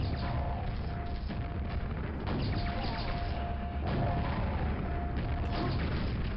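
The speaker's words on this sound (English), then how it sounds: "I guess we'll just use the rocket launcher." A rocket launcher fires repeatedly in the video game Arcane Dimensions, with heavy booming blasts at irregular intervals over a constant dense roar of game noise.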